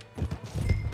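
Horse hooves clip-clop in quick uneven beats in Red Dead Redemption 2, a short burst of soft thuds at moderate distance with no talk over them.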